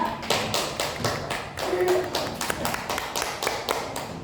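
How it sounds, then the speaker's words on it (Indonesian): A university classroom of biology education students claps for a student group, a modest scatter of individual hand claps with distinct taps and a loose rhythm, fairly close and moderately loud. "Tepuk tangan untuk kelompok 2."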